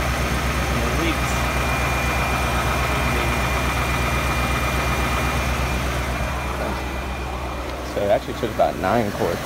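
A Ford F150 engine idles steadily just after an oil change, a constant low rumble with a faint hum running throughout, while someone talks over it near the end.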